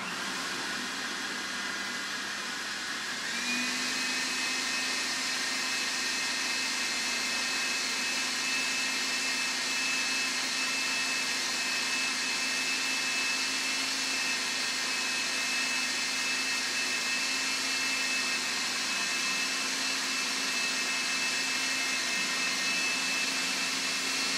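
A loud, steady motorized whir of a food processor blending hummus, running continuously, its pitch rising slightly a few seconds in and then holding constant.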